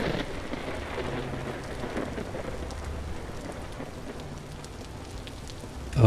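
Continuous rain in a Minecraft video game, an even, enveloping hiss of downpour with faint low thunder rumbling beneath, steady throughout before a brief louder burst at the very end, with no talk.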